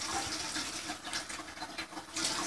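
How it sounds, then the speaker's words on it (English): Water is swished around inside the reservoir of a doTERRA Lotus essential oil diffuser and then poured out, a continuous splashy slosh and pour that stays close and fairly quiet. "So I literally just fill it up with some water like that. Swish it around and just dump it out."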